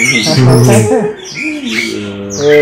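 A young Bali myna chick gives loud, close, wavering squawks and chirps in two drawn-out bursts with a short pause between them.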